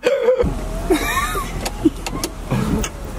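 The power window of a Tesla car whirs as it moves, a close electric motor hum that comes and goes in short bursts as the window keeps rolling back down, with laughter and voices in the car around it.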